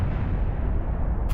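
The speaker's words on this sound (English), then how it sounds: "some explosion in the background" A deep, booming explosion in Kerbal Space Program, a loud low roar that rumbles for about a second before cutting off.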